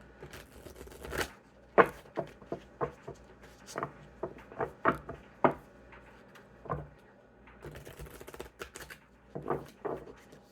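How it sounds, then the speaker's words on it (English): A brand-new deck of cards is shuffled in repeated quick riffles and soft slaps, a steady series of crisp bursts close by in a quiet room. "This deck is brand new, so it's a little trickier to shuffle. We'll do 2 more shuffles"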